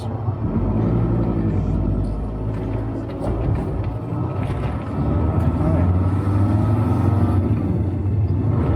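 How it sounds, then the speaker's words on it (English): A VW T4 van on a test drive, fixing error 17964, with turbo cleaner in the fuel: a loud, steady engine rumble and road noise fill the cab while someone talks over it. "I'm now going to take it for a test drive"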